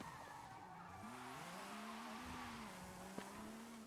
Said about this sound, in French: Ah oui, il dérape vraiment rapidement.